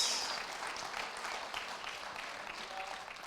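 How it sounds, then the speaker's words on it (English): A church congregation applauds together, a dense, steady wash of many hands clapping that stays fairly loud and even throughout, with no talking over it. "clap for Jesus if you are happy about this"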